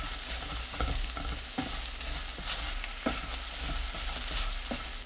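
Zucchini stir-fried with green onion and a splash of salted shrimp brine, a steady frying hiss broken by scraping stirs from a spatula at irregular intervals, close and with no voices.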